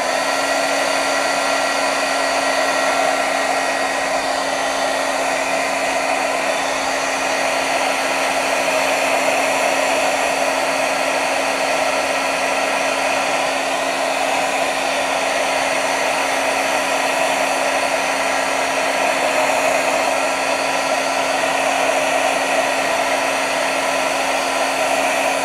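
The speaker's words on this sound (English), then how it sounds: "I'm going to hit this with my heat tool." A heat tool blows steadily while drying watercolor paint, giving a loud, constant whirring hiss with a steady hum and no breaks.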